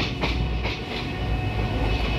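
The Rajya Rani Express rolls along the tracks near Lucknow's Alamnagar Junction, a loud, steady rumble with rhythmic clickety-clack of wheels over rail joints, heard from on board with no talking.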